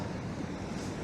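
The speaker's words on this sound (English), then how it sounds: "there's a kind of a waterfall, not a natural one, but that's what that noise is." An artificial, man-made waterfall runs with a steady, close rushing wash of falling water, continuous and unbroken throughout, with no voices.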